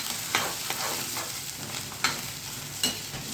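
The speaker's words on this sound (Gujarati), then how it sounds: "જો લસણ તમે નાખો અને થોડુંક ગરમ થવા દો, બ્રાઉન થઈ જાય ને તો એ વઘાર અલગ વઘાર આવે" Garlic tempering sizzles steadily in hot oil for a Gujarati dish, a continuous close frying hiss broken by a few sharp clinks of stirring, with no voices.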